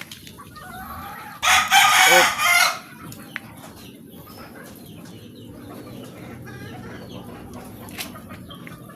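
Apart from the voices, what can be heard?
chickens clucking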